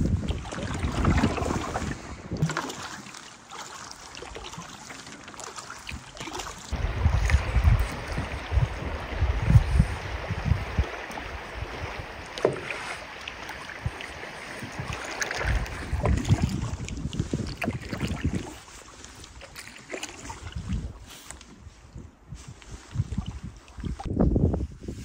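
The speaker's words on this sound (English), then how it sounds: "It's still pretty windy." Wind buffets the microphone while someone fishes from a canoe on a lake, a loud, rough rumble that rises and falls in gusts across the whole stretch, with no talk.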